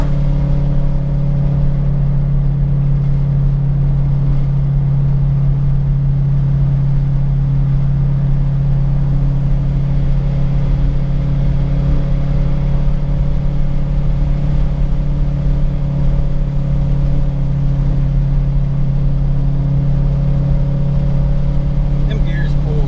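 A Torqstorm-supercharged car engine runs with a loud, steady droning hum that stays close and constant throughout, with no clear gear shifts.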